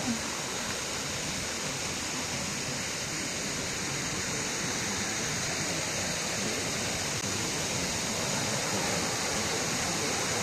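Continuous rushing water from a deep river at a resort in Majayjay, Laguna, flows steadily throughout, fairly close and even in volume, with no clear voices.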